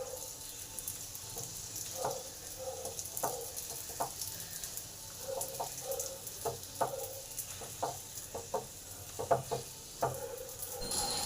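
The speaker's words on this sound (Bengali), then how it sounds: "এইভাবেই সব পরোটাগুলো এক এক করে ভেজে নেব।" Milk paratha fries in a pan, giving soft sizzling with scattered light scraping and tapping sounds as it is turned, fairly quiet and close, with no talking.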